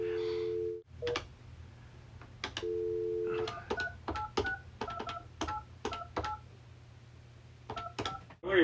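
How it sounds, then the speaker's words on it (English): Telephone keypad dialing tones for placing a phone call: a long dial tone, then a rapid sequence of short, distinct beeps in an irregular rhythm, clear and close with no talking. "do an impromptu phone call to my dad"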